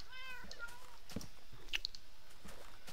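Cats in Minecraft giving a few short, soft meows scattered across the moment, alongside faint clicks and game sounds, with a voice speaking at a low level.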